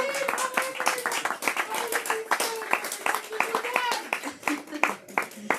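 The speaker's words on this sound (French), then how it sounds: "On peut applaudir les bénévoles derrière le bar." A French association café audience claps for the volunteers behind the bar, with dense, steady applause close by. Bursts of speech and cheering run over it throughout.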